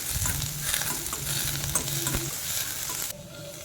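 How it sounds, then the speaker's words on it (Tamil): Onions and curry leaves are sautéed in groundnut oil, giving a close, busy sizzle with stirring scrapes that drops off abruptly near the end, with no talk. "அதோட கருவேப்பிலையும் சேர்த்து ஆட் பண்ணி நல்லா வதக்கிட்டேன்."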